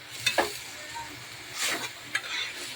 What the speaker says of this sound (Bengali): শাক ভাজাটাও হয়ে এসেছে